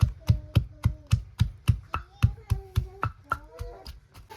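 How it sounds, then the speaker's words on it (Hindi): Fresh garlic pounded in a mortar in a home kitchen, a steady run of sharp, even thuds about three or four per second, close and clear, with someone talking over the pounding. "मैं खुद लंगड़ी में कूट के फ्रेश गार्लिक डाल रही हूँ"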